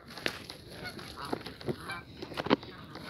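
Pet geese outdoors by some rocks give several short, nasal honks in an irregular cluster, close by and without any talking.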